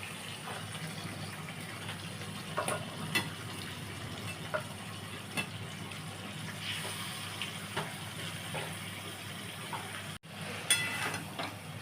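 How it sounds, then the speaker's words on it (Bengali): Fried jackfruit pieces added to a pan of tomato paste, sizzling and bubbling steadily at close range, with scattered soft clicks and a brief dropout near the end. "এর মধ্যে আমি এই ভাজা এঁচড়গুলো দিয়ে দিচ্ছি।"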